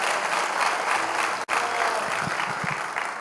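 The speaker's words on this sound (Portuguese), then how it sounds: "uma salva de palmas para o Senhor, amém?" A church congregation applauds the Lord during a worship service, a dense, steady wash of clapping from many hands that holds loud and even throughout, with a brief dip near the middle.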